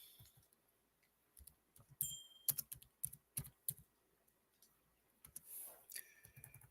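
Typing on a computer keyboard, with bursts of close, crisp key clicks in an irregular rhythm separated by short pauses, fairly quiet and with no talking.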